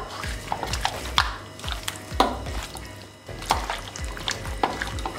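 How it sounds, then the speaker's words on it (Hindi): Raw chicken being mixed by hand with red chili powder and turmeric in a bowl, a close series of wet squelches, slaps and light knocks in an uneven kneading rhythm. "अब इसको हाथों की मदद से अच्छे से मिक्स कर लेंगे"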